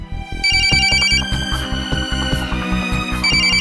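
An incoming call sets off a phone ringtone, a loud, bright electronic melody that repeats in quick, even pulses and plays alone throughout.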